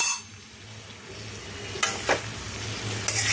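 Masala fries with paneer cubes in a pan for a dhaba-style chana masala, giving a steady sizzle broken by a few sharp scraping stirs, close and clear with no voices.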